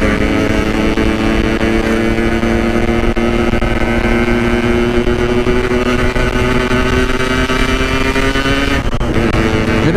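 Yamaha RX King two-stroke motorcycle engine droning loud and steady at close range, its pitch creeping slowly upward throughout, with no voices.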